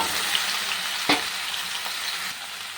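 Ridge gourd and potato pieces frying in hot oil seasoned with nigella seeds: a dense, even sizzle up close, with one sharp stir knock and a few lighter scrapes, no talking.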